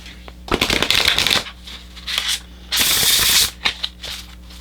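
Oracle cards being shuffled by hand in bursts of crisp riffling and rustling, two longer runs with shorter flicks between, close and clear with no talking.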